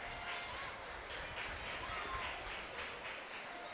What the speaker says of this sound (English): getting the due applause from this crowd and the players